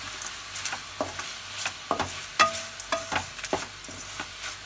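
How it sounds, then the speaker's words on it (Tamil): Coriander and coconut sautéing with a little salt in a pan for tomato chutney, a soft sizzle punctuated by repeated spatula clicks and scrapes at an irregular rhythm, close and moderately quiet. "கொத்தமல்லி, தேங்காய், இது வதங்குறதுக்கு கொஞ்சமாக உப்பு போட்டு நல்லா வதக்கிட்டு"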